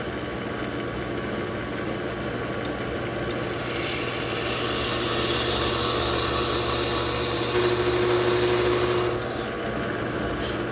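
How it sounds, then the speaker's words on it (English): A steady mechanical whine of a drill press drilling into an Epiphone Les Paul guitar body for an EverTune bridge runs throughout, swelling louder in the middle as the bit bites in, then easing back. "I also had to take the table off my drill press here to be able to do this."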